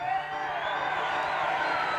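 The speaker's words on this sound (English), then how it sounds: "please hold your applause to the end" Audience in a tent at an art revival show cheering and whooping, a steady broad crowd roar with hints of voices, sustained and fairly loud throughout.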